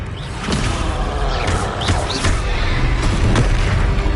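Confringo fire blast spell explosions in Hogwarts Legacy combat: several loud booming bursts at irregular moments over a dense, continuous bed of battle sound effects, with no talking.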